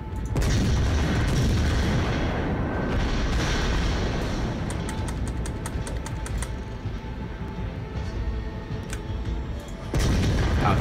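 Naval guns fire in World of Warships with deep, continuous booming rumble, plus sharper reports near the end and a renewed loud blast at the close; no voices over it.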